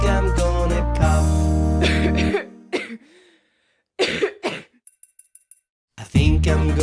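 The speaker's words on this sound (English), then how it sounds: "I think I'm gonna cough" A few short coughs come between stretches of loud music and singing, followed by a throat-clearing sound; a voice seems to perform the coughs.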